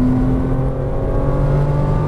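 A Porsche Cayman R on a racing track comes back on the throttle, engine drone rising steadily, loud and close, with no talking over it.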